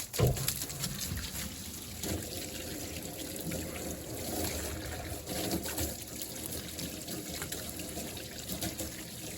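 Water sprays and splashes steadily onto a car wheel to rinse off wheel cleaner, a continuous close wash of hiss and trickle with no talking.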